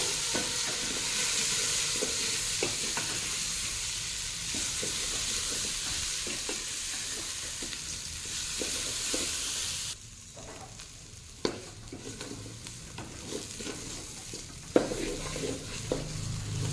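A lentil and Gobindobhog rice mixture fries and is stirred in a pan, with a steady hissing sizzle and intermittent scraping strokes that grow sparser and quieter after a sudden drop partway through.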